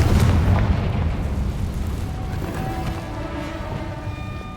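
Spell explosion cast in the Hogwarts Legacy video game, a loud booming blast at the start that rolls into a rumbling decay, with faint magical tones ringing through the tail.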